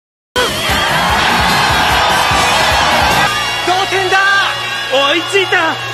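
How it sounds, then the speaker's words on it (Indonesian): Crowd cheering after a basketball dunk in an anime match, a loud continuous roar of massed voices that breaks into scattered whoops and shouts toward the end. "Sorakan memecah udara."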